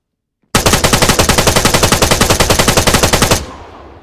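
A machine gun in ArmA 3 fires one long continuous burst of about thirty rapid, evenly spaced shots, loud and close, then cuts off and leaves a short fading echo.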